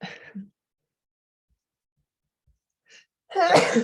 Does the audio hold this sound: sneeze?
yes